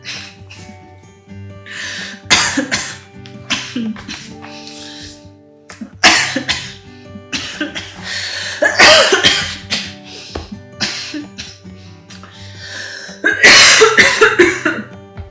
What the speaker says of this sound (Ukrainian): якщо я багато сміюся, я починаю кашляти багато